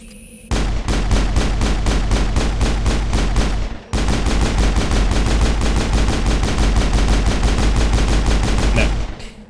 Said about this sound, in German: Da kann ich auf jeden Fall sorgenlos schießen